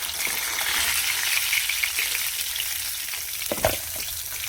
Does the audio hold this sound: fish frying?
yes